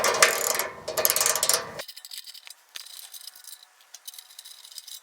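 Bolts being worked loose from the heat shield of a Champion dual fuel generator with a 10 mm tool, a loud close burst of metallic ratcheting and rattling that drops to softer, sparse clicks and taps.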